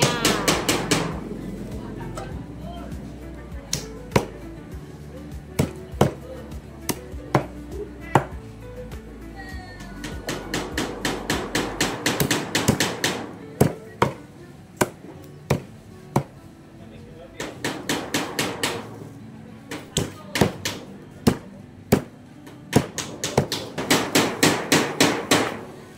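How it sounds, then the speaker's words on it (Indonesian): Half a kilo of chicken chopped into pieces for chicken soup, a steady run of loud, sharp cleaver thwacks on a board, some in quick bursts, with a voice speaking over parts of it. "Setengah kilo potong-potong buat sop."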